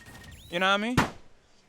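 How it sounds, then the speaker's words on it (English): A fist strikes a door once in a single sharp, close thump, right after a voice speaks. "That was the sound of Storch punching the door."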